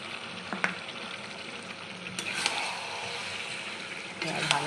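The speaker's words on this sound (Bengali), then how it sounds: "দিয়ে কষে নেবো অনেকক্ষণ ধরে, যতক্ষণ না তেলটা ছাড়ে মশলা থেকে।" Chicken with a garlic and dried-chilli paste, a little sugar and sour yogurt frying in oil, a soft continuous sizzle with a few stirring clinks at the start and near the end, heard at moderate distance.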